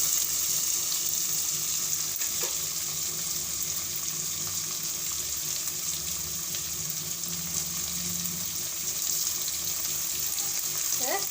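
Food sautéing in a pan ahead of pressure cooking, a steady soft sizzle running close and continuous with faint stirring and no talk.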